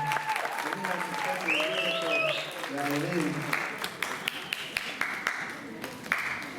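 An audience at a high school yeshiva's end-of-year play breaks into sustained applause, many hands clapping in a dense patter while someone speaks over it, the clapping tapering off toward the end.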